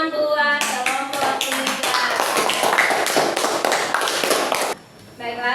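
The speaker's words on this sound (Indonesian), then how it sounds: "Tepuk tangan buat kelompok" Schoolchildren in an Islamic religious lesson clap for a group, a fast, loud round of many hands that stops abruptly near the end, with voices mixed in.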